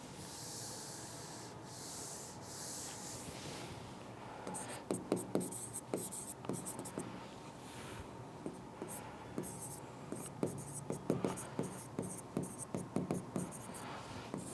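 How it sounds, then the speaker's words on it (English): Marker or chalk writing on a board during a biodiversity lecture, scratchy rubbing strokes in quick bursts that start quietly and grow denser, with no talking. "I am writing here."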